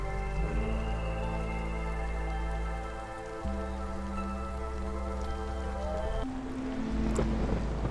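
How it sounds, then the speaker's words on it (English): A steady rain downpour hisses during a storm in the game Against the Storm, a dense constant wash layered under sustained musical tones that change partway through, with no talking. "making sure we can survive the downpour"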